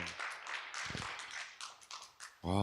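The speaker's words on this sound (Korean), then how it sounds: "이럴 때 박수 한번 치셔야 되는 거 아닙니까?" An audience at a university alumni talk event applauds in a steady, dense wash of clapping that carries for over two seconds, with brief voices breaking in near the middle and at the end.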